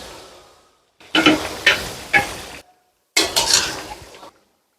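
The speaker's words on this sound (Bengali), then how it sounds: "এখন আমি মাংস ডালি দিলাম" Chicken pieces go into a hot pan of spices in a home kitchen and set off two bursts of close, crackling sizzle. Stirring scrapes run through the sizzle, with short silences before and between the bursts.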